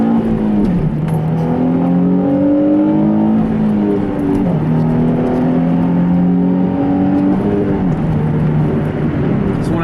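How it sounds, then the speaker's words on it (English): A manual car accelerating hard through the gears, its engine whining up in pitch in long rising pulls with drops at each shift, loud and close throughout. "So first I'm going to show you how to accelerate aggressively"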